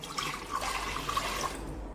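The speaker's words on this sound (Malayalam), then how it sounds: "വെള്ളം ഒഴിക്കാം." Water splashes and gurgles steadily into a cooking pot for traditional Onam puzhukku with elephant foot yam, a soft, close pour lasting about two seconds with no talk.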